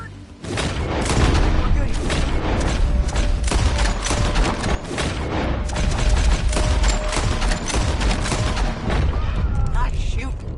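Dense, sustained gunfire from the Wild West game Red Dead Redemption 2 crackles and booms continuously with overlapping shots, mixed with chaotic action noise and occasional voices.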